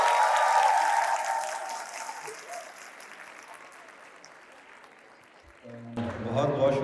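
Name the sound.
audience applause for the poet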